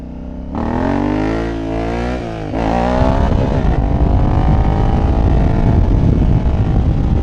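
An Africa Twin motorcycle rides along a road, the engine revving up through gears with rising pitch sweeps, then settling into a loud, steady drone mixed with wind rush close to the mic.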